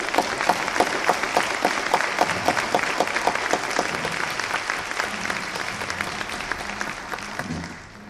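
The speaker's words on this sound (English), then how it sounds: "Let's do one large round of applause for this whole thing." Audience applause at a 2016 conference session, a steady wash of many hands clapping at close range that carries on for several seconds before thinning and fading at the end.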